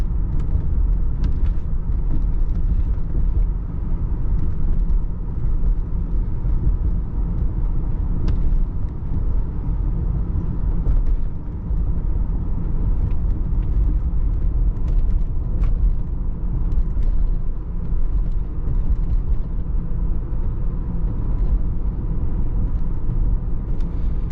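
A 1997 Lincoln Town Car Cartier rolls along a bumpy, winding road, its engine and tires producing a steady, loud low rumble from inside the cabin, with faint thumps from the rough surface and no talking.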